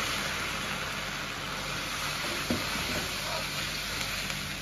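Egg zhajiang sauce sizzles and bubbles with small oil bubbles as it is stir-fried in a wok, a steady hissing fry with no talking.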